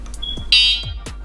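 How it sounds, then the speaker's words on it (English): Freego ES10 dual-motor electric scooter horn sounding as one short, shrill electronic beep over light background noise and a few soft knocks. "horn."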